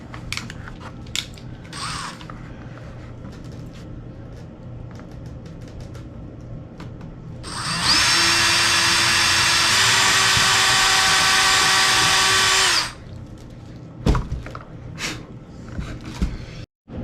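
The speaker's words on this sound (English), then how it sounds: "I got the other front corner drilled" A power drill bores holes in the plastic airframe of a 1/48-style VQ model U.S. Navy F6F Hellcat fighter during assembly, one steady whirring burst lasting about five seconds, close and loud, between quieter handling clicks.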